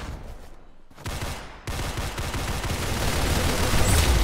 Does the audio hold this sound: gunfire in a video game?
yes